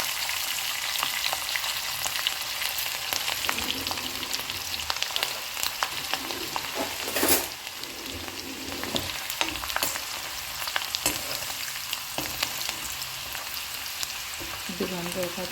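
Garlic, green chilies and curry leaves fry in hot oil, giving a loud, dense, continuous sizzle with crackling spatter. Occasional stirring clatters over it, close up, and no one speaks.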